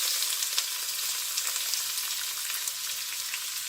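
Onion sizzles and fries in hot oil for lemon rice, with a steady close crackle and scattered small pops and no voices.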